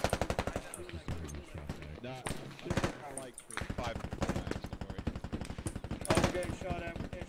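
Rapid bursts of automatic gunfire rattle through a squad-based military video game, with repeated shots in quick strings and excited players talking over the battle.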